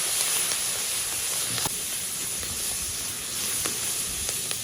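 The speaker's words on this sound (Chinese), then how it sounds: "油烧热以后，把我们提前准备好的香料加到里面泡一下锅" Steady, loud hiss and sizzle of whole spices frying in hot oil in a wok for Chinese pickled cabbage fish, continuous throughout with a few faint clicks.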